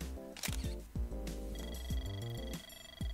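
Camera shutter snaps in the Super Mario Party Jamboree video game, several short clicks among bright chiming game music notes, with no speech.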